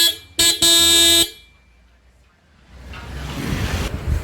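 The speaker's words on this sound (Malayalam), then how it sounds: "അതാണ് കമ്പനി വരുന്ന ഹോൺ." A Toyota Rumion's stock factory horn sounds loud and close in a short double blast of about a second, then gives way to a gusty, rushing outdoor noise.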